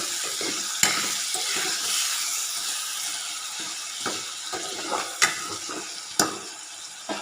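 Tomato and dal mixture stirred in a pan with a spoon, steady scraping and faint sizzle throughout, with a few sharper clinks of utensil against metal, close and moderately quiet with no talking.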